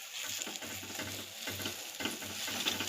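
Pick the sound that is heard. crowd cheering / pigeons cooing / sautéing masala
sautéing masala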